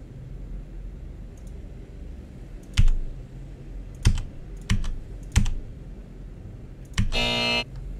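Keys struck on an in-game keyboard in the deep-space horror game Tether: four or five loud, separate clunky presses over a low ambient drone, followed by a short buzzing tone.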